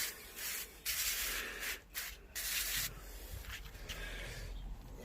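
A garden sprayer hisses in several steady bursts over petunias, stopping briefly between them, close and fairly loud.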